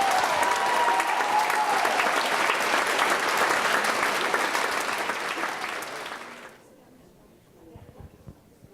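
A high school assembly audience in a gym-like hall applauds the city's newly elected mayor with a full, loud roar of clapping and crowd noise for about six seconds, then it cuts off abruptly into near silence.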